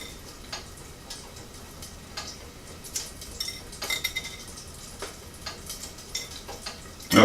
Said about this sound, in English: Peel the shell off.